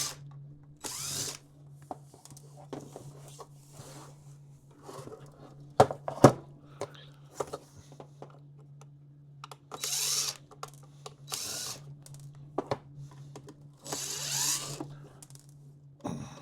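Rusty cover screws are backed out of a Cobra 29 LTD CB radio with a driver tool, heard as short intermittent whirring and ratcheting bursts separated by quiet pauses, close but fairly soft.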